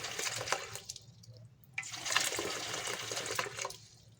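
Clean water, about half a litre, is poured into a container to make brine for salted crab, a splashing, gurgling pour that stops and starts in a few surges.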